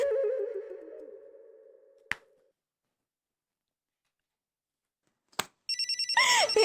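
A telephone rings in a quiet room: a sustained ringing tone that fades out, a sharp click, a stretch of silence, then a few short electronic ringtone beeps near the end, with no voices.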